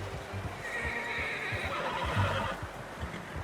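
A horse in Red Dead Redemption 2 lets out a loud, drawn-out whinny over a steady outdoor game ambience, with hooves clip-clopping close by underneath.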